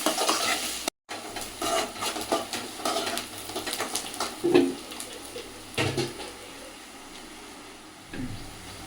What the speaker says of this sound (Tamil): வெங்காயத்துக்குள்ளேயே கருவேப்பிலை நல்லா வதக்கணும்.